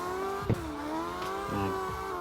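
Phoenix NX car engine in CarX Drift Racing 2, a loud continuous engine drone that climbs in pitch through quick gear changes with brief dips between them, close and steady, without talk.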